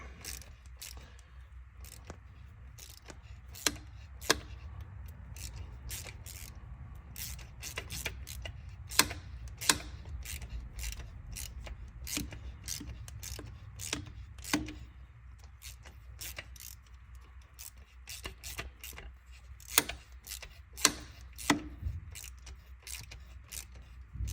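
A thread tap being turned by hand into a Mercedes OM606 turbo drain fixture gives sparse, irregular metallic clicks and ticks over a quiet background, close and fairly faint.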